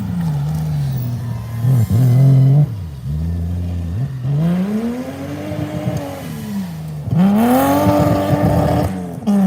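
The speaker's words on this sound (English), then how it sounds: "Should be able to hear more of the engines and less of me talking." Subaru rallycross race cars revving hard, engines rising and falling through repeated throttle blips and gear changes with some rev-limiter bouncing, loud and close, with a car passing by.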